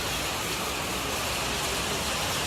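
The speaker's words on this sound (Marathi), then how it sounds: "पाऊस बघ किती पडतोय" Heavy rain pours down in a steady, dense hiss that fills the whole space, loud and unbroken throughout with no clear voices.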